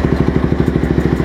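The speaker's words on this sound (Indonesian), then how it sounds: "Masih padat banget suara mesinnya, nggak kocak." A Honda Tiger 2000 motorcycle, a 2003 custom scrambler, idles with a steady, loud, close thumping beat of evenly spaced engine pulses and no talking over it.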